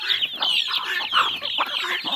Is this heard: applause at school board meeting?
no